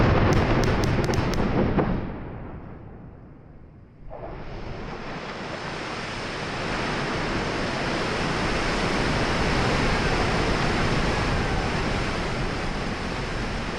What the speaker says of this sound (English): That is the sound of a dam being blasted open,